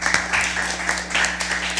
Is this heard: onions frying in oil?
no